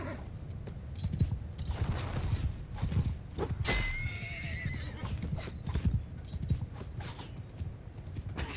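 Horse hooves in Mount & Blade II: Bannerlord, a quick run of clip-clop steps close by mixed with neighing and whinnying, with battle noise underneath.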